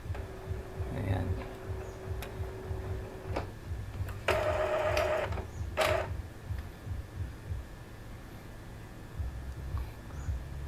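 An Epson L3110 inkjet printer runs a head cleaning cycle, with a low steady mechanical hum, short whirring carriage moves and a couple of louder buzzing bursts, close and moderate in level.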